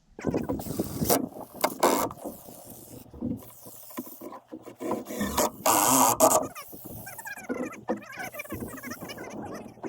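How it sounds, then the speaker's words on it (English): Screws being driven down into subfloor panels during a DIY floor install: bursts of whirring from a power drill with ratcheting, mechanical clicks, near and fairly loud, alongside scuffs and knocks on the boards. "And then Chelsea, if you want to screw behind us."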